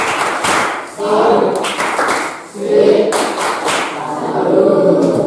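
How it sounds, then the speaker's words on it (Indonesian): Classroom applause after a student presentation in an Indonesian language lesson: a burst of clapping with taps and thuds, pausing briefly then resuming in waves, with voices murmuring underneath. "Beri tepuk sambut."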